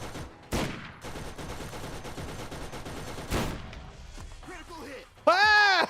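Gunfire from a gun in the video game Borderlands 4, aimed as a headshot: two sharp, loud bursts about three seconds apart over a busy game background, ending with a brief tonal voice-like sound.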